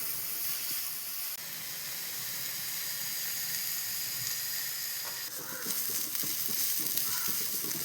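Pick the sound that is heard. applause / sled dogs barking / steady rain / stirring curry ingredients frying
stirring curry ingredients frying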